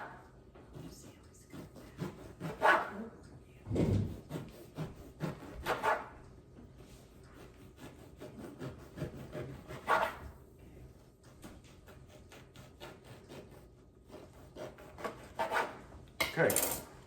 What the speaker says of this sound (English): I'll slice that in half, and then we'll just slice off.